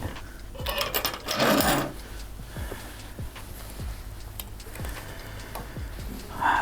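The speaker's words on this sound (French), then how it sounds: "Et donc là, c'est parti pour une piqûre nervure. Donc j'ai changé de pied." Domestic sewing machine with a pin-tuck presser foot stitching a pin tuck on a wool coat for a Burda pattern, heard as several short mechanical whirring bursts with clicks, fairly close and moderately loud, with no talking.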